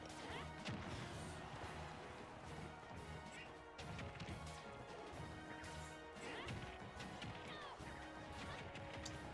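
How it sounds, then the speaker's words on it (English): Stage lights crash down during a Super Smash Bros match between Yoshi and Byleth, with repeated impact smashes and whacks layered over busy game effects and music throughout. "Careful on those lights, they can come crashing down."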